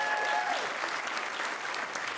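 An audience at an awards ceremony applauding for Candace Cain, dense sustained clapping from a large crowd, loud and continuous throughout.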